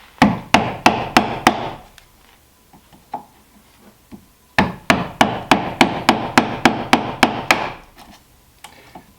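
A hammer strikes a sharp chisel cutting into wood siding in two rapid runs of sharp, evenly spaced knocks, loud and close, with a short pause of lighter taps between them.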